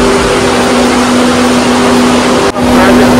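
Electric water motors pumping leaked water out deep underground beneath a hydroelectric project, a loud constant droning hum with a steady tonal whine, filling the space close by with one brief dip.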